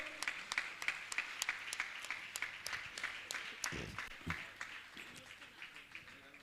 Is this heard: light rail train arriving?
no